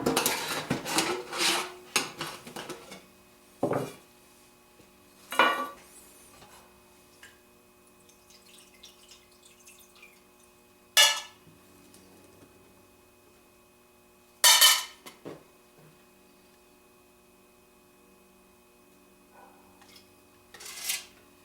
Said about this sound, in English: I'm gonna go ahead and open up this carb cleaner and start throwing some of this in the basket